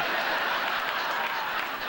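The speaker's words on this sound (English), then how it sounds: "you let that kind of half-ass applause wash over me" A studio audience at a late-night comedy talk show gives dense, continuous applause, a broad wash of clapping hands at steady loudness for two seconds.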